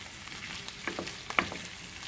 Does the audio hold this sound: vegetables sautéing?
yes